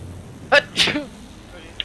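A person sneezes once with a short in-breath followed by a sharp burst, close and loud, over quiet game background during a Battlefield 1 match.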